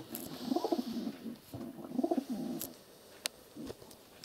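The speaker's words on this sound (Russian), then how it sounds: "Видишь, они уже воркуют." Pigeons in a dovecote cooing, two soft rolling phrases close by, with faint rustling and clicks between calls.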